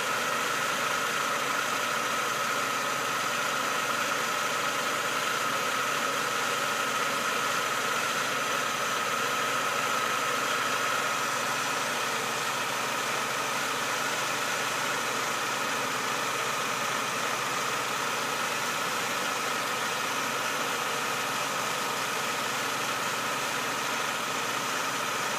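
A 2002 Chevy Cavalier with a 2.2 engine idles steadily, a constant mid-pitched hum and light ticking vibration heard close and unchanging for the whole stretch.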